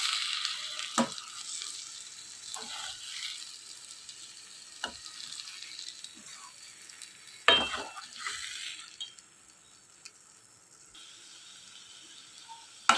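Eggs fry in oil in a pan for an ukkuru scramble, a faint steady sizzle broken by a few sharp scrapes and taps as the mixture is stirred.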